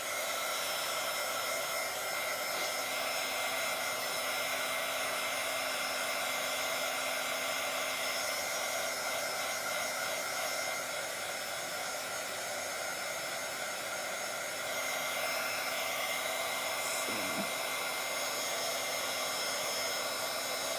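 A hair dryer blows steadily and loudly for about twenty seconds, drying layers of paint in a Bible art journal, with small shifts in tone as it moves.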